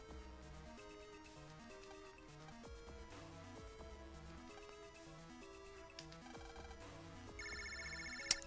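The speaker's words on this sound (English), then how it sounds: "Oh, we got a phone call." A phone call rings in the Megaman Battle Network 2 video game, a faint electronic trilling chime arriving near the end over looping in-game music, with no talk.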